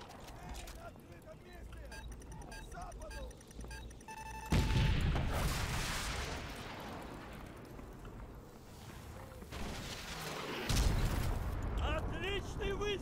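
A gunshot cracks out loud and sudden in Call of Duty: Modern Warfare Remastered amid a battle scene with a tank, followed by rumbling explosions and background game noise, with voices talking around it.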